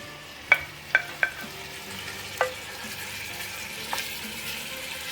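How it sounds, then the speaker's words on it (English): Lamb browning in hot oil in a pan, with a soft continuous sizzle and a few sharp clinks of a utensil near the start, close by with no talk. "Oil is nice and hot. Now I'm just going to add the lamb."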